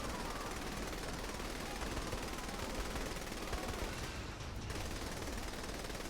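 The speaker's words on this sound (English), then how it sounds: "Shooting an M60." M60 machine gun in Saints Row firing in a long sustained burst, rapid dense shots running continuously for several seconds, close and loud with no talking.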